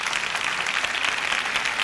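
An audience claps in welcome for comics artist Francisco Ibáñez, a dense, even wash of applause throughout the brief moment with no voices.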